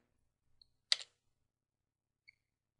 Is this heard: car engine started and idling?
no